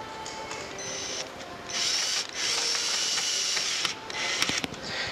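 A screw is driven into a Mustang inner fender cover, with a whirring power-tool drone in bursts that rise and drop, plus a few sharp clicks near the end.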